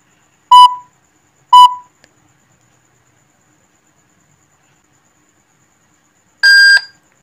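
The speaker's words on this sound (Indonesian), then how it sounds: "di situ sudah berbunyi suara yang keras sekali ya. Berarti otomatis kamera sudah terdeteksi di aplikasi ini." An Avaro CCTV camera gives loud electronic beeps after scanning a QR code: two short identical tones about a second apart, then after a pause a longer, brighter beep, each crisp and close in near silence.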